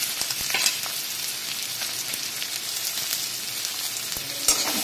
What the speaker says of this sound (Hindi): देखिए तेल गरम हो गया है, इसमें हम पहले प्याज को डाल दे रहे हैं और शिमला मिर्च और हरी मिर्च सभी को हम डाल दे रहे हैं।